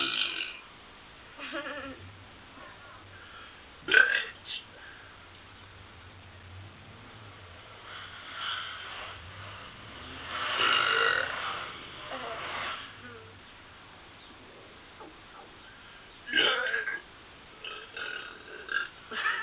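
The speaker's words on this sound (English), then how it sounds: "Burping." A person lets out a few loud, drawn-out burps at irregular intervals, separated by quieter stretches, with a voice speaking briefly between them.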